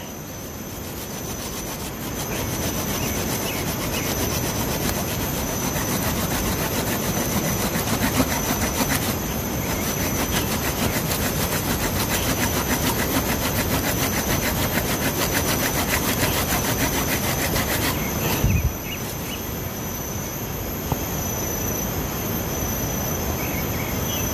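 Steady, rasping back-and-forth sawing through a hard lamtoro tree trunk, continuous and close for a long stretch, with a brief pause near the end.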